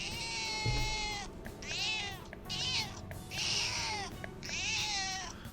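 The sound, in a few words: Mona the cat meowing from controller, Persona 5 Royal video game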